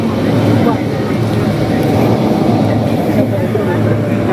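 Inside a moving Mumbai metro train, a steady loud rumble of running wheels and motors fills the carriage, even and continuous throughout.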